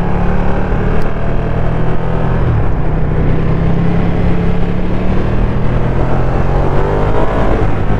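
A loud motorcycle engine roars steadily throughout, its pitch climbing gradually as it accelerates, with no talking.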